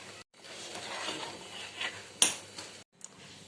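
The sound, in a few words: stirring dal in a pot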